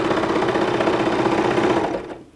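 A serger sewing machine stitches fabric for a scrub cap, a loud, close, rapid mechanical chatter that runs steadily, then slows and stops near the end.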